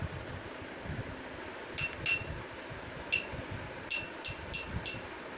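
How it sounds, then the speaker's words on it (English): A spoon strikes water-filled drinking glasses, giving a handful of bright, ringing clinks in short pairs and runs against a faint windy background, with no talking. "You're going to hold the spoon and listen to the sound of each glass."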